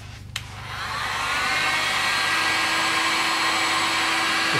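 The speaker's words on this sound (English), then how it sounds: "I'm going to use a heat gun." On the water pump of a 1983 Honda VF750F motorcycle, a heat gun heats rubber. After a click, it ramps up into a loud, steady, close blowing whir that holds without a break.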